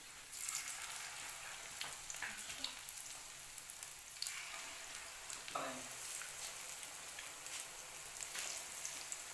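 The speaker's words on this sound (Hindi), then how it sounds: "जब ऑयल अच्छे से गर्म हो जाएगा तो हम इसके अंदर पकोड़े हम अपने डालेंगे" Pakoras made from gram flour batter fry in hot ghee in a pan, giving a continuous soft crackling sizzle like light rain, with a few louder pops, heard close and fairly quiet.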